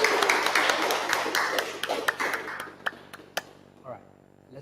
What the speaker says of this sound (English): round of applause to our lovely audience here today.